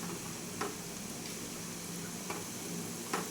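Lentil fritters (dal bora) deep-frying in oil, a steady, even sizzle with a few faint clicks of stirring, heard alone.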